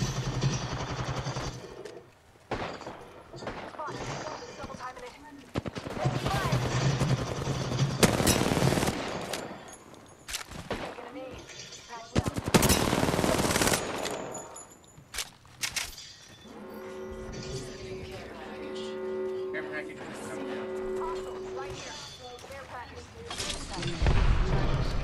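Rapid bursts of gunfire from an Apex Legends Arena match, loud and close, with repeated automatic volleys and sharp impacts mixed with game effects and people talking over the action.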